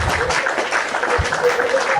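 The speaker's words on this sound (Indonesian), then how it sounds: "Kita kasih tepuk tangan dan semangat dulu guys buat Mami Obet nih, luar biasa" Audience applause for Mami Obet, a steady wash of clapping lasting about two seconds, moderately loud and fairly close, with some voices mixed into it.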